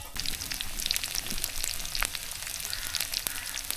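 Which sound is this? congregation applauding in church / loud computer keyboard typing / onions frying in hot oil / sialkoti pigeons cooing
onions frying in hot oil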